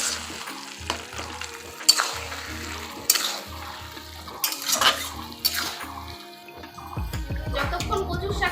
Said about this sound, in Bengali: আর নাড়তে থাকবে।